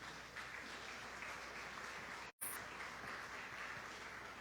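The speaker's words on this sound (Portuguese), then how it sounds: "Dê uma linda salva de palmas para Jesus." A church congregation applauds in a steady, dense wash of clapping that fills the room at a distant, even level, with a sudden momentary dropout partway through.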